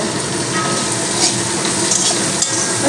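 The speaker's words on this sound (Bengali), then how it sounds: "ওই তেলটুকুর মধ্যে আমি ভেজে নেব কেটে রাখা আলুগুলো" Loud, steady sizzling and crackling of salted potatoes frying in hot oil, continuous throughout with no voices.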